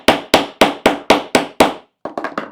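A hammer strikes a post set on an anvil while making a custom leather holster: six loud, evenly spaced blows, then a quicker cluster of lighter taps, close and sharp.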